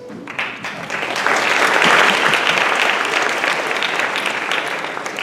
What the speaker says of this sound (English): we'll have a moment of applause